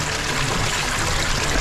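Loud, continuous rush of water pouring down a waterfall inside a flooding cave, a dense unbroken roar filling the space close by.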